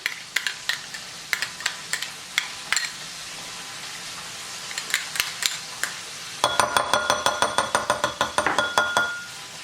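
Mayonnaise, a third of a cup, scooped into a bowl for homemade tartar sauce, giving a string of sharp utensil clinks and scrapes against the bowl, quicker and louder in a steady burst near the end.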